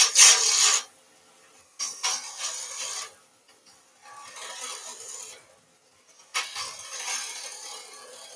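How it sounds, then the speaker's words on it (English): A thick precast resin and polyester pen blank turns on a lathe as a bowl gouge cuts it like a skew, giving close, rasping bursts of scraping separated by short pauses. "I'm just using the bottom of the bowl gouge as a skew."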